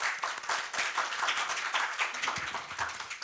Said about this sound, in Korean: 큰 박수 부탁드립니다.